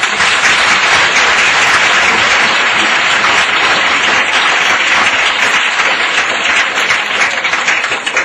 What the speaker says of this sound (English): We can all give Chef Songporn a round of applause.